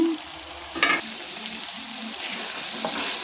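Salted bottle gourd pieces sizzle in a pan while a spoon stirs them, producing a steady frying hiss with a few scraping knocks, close and fairly soft.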